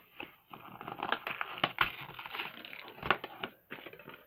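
Shopkins blind bag packaging being torn and opened by hand, a steady run of close crinkling, crunching plastic with sharp crackles and rips throughout.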